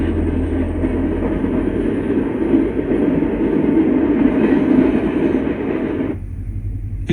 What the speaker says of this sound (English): And another NS train heads westbound at Floyd.